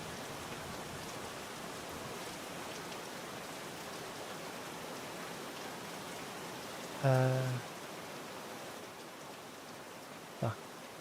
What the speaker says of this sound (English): The rain sound is really loud.